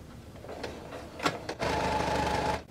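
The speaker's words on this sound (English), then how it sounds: "I'm just going to top stitch" A sewing machine top stitches a fabric bag, starting with a few short clicks and handling sounds, then running in one steady close burst before stopping.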